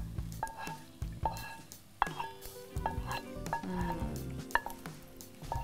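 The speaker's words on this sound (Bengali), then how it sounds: "আমি এবার একটু নাড়াচাড়া করি" Pasta in a pan being stirred together with white sauce, with a spoon clacking and scraping against the metal in irregular knocks and light squelches, close up and without talk.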